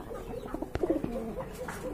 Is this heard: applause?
no